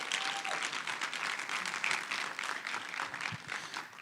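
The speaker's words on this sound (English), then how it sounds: "Let's give UDDG a good round of applause." Audience applause at a conference, a sustained, even burst of many hands clapping that fills the room at moderate loudness throughout.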